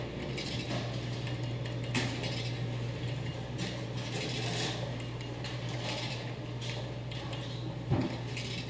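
Faint office clatter of keys and mechanical ticking from a printer runs over a steady low hum, with occasional sharper clicks, heard through Audio-Technica ATH-ANC9 noise-cancelling headphones.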